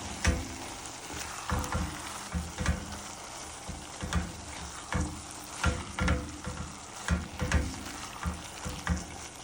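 Vegetables and half a can of Rotel tomatoes sizzle and fry steadily in a hot pan, with repeated stirring scrapes and pops over a continuous crackle, close and moderately loud, no talking.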